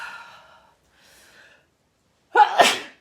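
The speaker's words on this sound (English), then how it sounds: "Oh, I feel like I'm gonna sneeze" A single sharp sneeze near the end, preceded by faint breathy inhales, loud and close against near silence.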